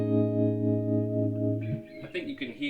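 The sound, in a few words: electric guitar through a C90 speaker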